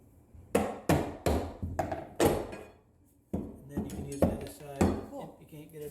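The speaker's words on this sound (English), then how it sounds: "using maybe a rubber mallet instead of a regular hammer, so it's not so hard on the ears" Sharp rubber mallet taps knock one by one on subfloor during hardwood floor prep, about a dozen in an uneven rhythm with a brief pause midway, close and fairly loud.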